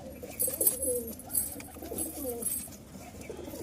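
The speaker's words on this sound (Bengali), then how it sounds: "এক জোড়া কবুতর" Soft repeated cooing of a pair of caged pigeons, a few low throaty calls at close range, with light background noise.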